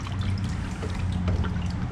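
Liquid pours and trickles steadily for a couple of seconds during reassembly of a 1977 Pontiac Trans Am, over a low rumbling background.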